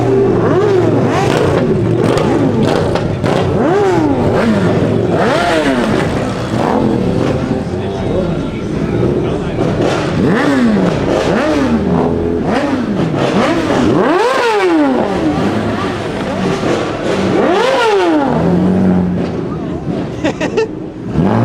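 At a Southern California car meet, cars and motorcycles rev hard one after another, engines bursting up and falling back in loud, overlapping swoops over a constant crowd rumble and clatter, with people talking in the background.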